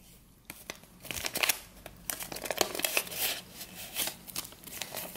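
Paper surprise packet torn open by hand, giving a run of crisp crinkling and tearing bursts, close and moderately loud, with no talking over it.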